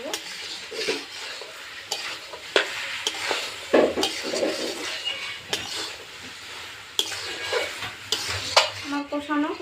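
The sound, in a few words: potatoes and peas being stirred and sautéed for ghugni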